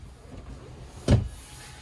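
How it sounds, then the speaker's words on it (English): A helm seat on a 2020 Sea Ray SDX 270 outboard boat shifts position with one short, firm mechanical clunk or slide partway through, otherwise near-quiet. "You have the ability to change the orientation of the helm seat and passenger seat."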